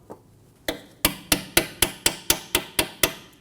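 Hammer taps seating a rear brake line clip into its bracket on a 2008-2015 Scion xB, about ten sharp metallic strikes in a steady rhythm, close and loud after a brief pause.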